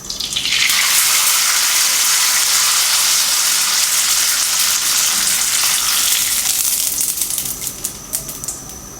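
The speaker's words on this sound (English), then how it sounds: "Place the beancurd sheet into the oil and deep fry for about 10 to 15 seconds." Pieces of beancurd sheet dropped into hot oil for deep frying, a loud, bright bubbling sizzle that bursts up at once, holds steady, then eases off with a few crackles.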